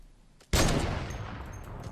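A single loud, sharp sniper rifle crack from Fortnite lands after a brief quiet lull, followed by a rumbling decay and faint background game noise, with no voices.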